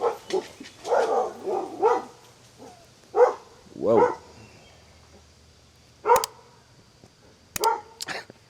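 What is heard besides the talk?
dog barking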